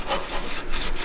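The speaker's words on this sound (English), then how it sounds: "This is a wire brush for the pool." A pool wire brush scrubs rust from the body of a classic car in quick, close, raspy strokes, filling the short moment without any talk.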